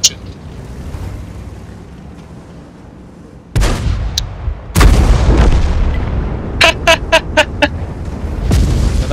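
Tank cannon fire and high-explosive shell impacts in the World of Tanks video game: several sharp loud blasts with booming rumbles, followed by quick clattering bursts, over a low background drone.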